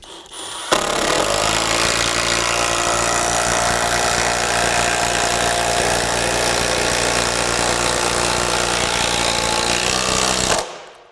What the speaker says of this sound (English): So if you're driving lags for a deck or anything like that, this is going to have zero issue taking anything that you have through.